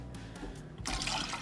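Milk pours and splashes into a cooking pan while a chicken spoon bread is being made, a brief wet slosh rising suddenly into a loud, bright spatter.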